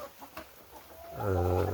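On a small poultry farm with about a hundred hens and seven roosters, a single loud, drawn-out rooster crow or squawk rises close by after a second of faint background clucking.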